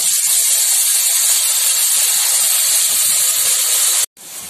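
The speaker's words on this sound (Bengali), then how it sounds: "আম একটু ভেজে নিয়েছি। এরপর দিয়ে দিচ্ছি পরিমাণ মতো জল।" Water poured into a hot pan of fried raw mango for chutney sets off a loud, steady hiss of steam that stops abruptly near the end, leaving a quieter sizzle.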